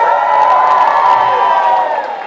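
An audience at a Tamil stand-up comedy show in Australia claps and cheers, a loud, dense and continuous wash of crowd noise with no talking over it.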